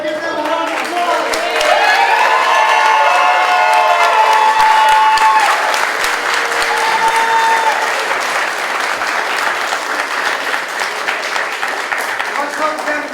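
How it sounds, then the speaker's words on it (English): Sustained crowd applause at a wrestling event for a fallen officer's family, loud and steady for the whole stretch, with a voice over a public address system partly overlapping. "I want to give them a round of applause."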